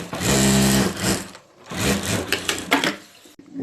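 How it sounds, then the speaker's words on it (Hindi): Stitching over the zipper strip of a handbag, a sewing machine whirs in a close burst, pauses briefly, then runs again in a few shorter uneven spurts. "हम यहाँ एक जिप पट्टी के ऊपर एक सिलाई कर देंगे।"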